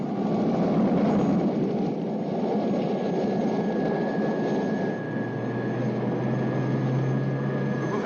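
Steady engine drone of an airplane in flight, a continuous broadband roar with a faint tonal hum, heard close and constant throughout with no talk.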